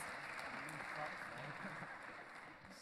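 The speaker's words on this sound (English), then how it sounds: "Round of applause." Steady applause from the audience at a youth town hall fills the room for about three seconds, dense and even, with some voices murmuring underneath.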